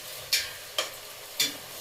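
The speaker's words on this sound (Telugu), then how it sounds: "ఇప్పుడు పచ్చిమిర్చి వేగుతుంది. పచ్చిమిర్చి బాగా ఫ్రై కావాలి." Green chillies fry in hot peanut oil with a low steady sizzle, broken by three sharp stirring scrapes spaced roughly half a second apart.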